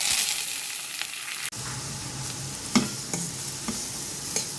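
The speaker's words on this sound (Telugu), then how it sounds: "జీలకర్ర వేగిన వెంటనే పచ్చిమిరపకాయ, ఉల్లిపాయ, కరివేపాకు వేసి వేగించుకోవాలి" Cumin, green chilies, onion and curry leaves fry in hot oil with a steady sizzle, then a louder crackle after the ingredients go in, broken by a few stirring scrapes.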